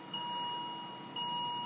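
Steady high-pitched electronic beeping tones sound close by, cutting out briefly midway before resuming just as loud.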